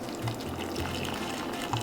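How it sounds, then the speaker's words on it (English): Hot water poured into a cup for a hot oil hair treatment, heard as a faint, short liquid trickle with a few soft splashy bursts close by. "Let's get the hot water."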